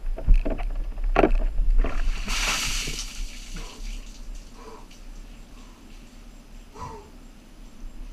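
A bucket of ice water is dumped over a person outdoors for the ALS Ice Bucket Challenge, a loud rushing splash followed by fading drips and trickling water.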